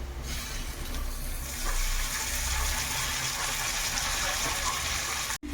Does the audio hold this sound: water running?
yes